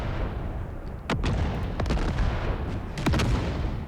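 Artillery firing in the Empire: Total War video game, with several sharp, heavy booms in an irregular sequence, two of them close together near the end, over a continuous rumbling battlefield din.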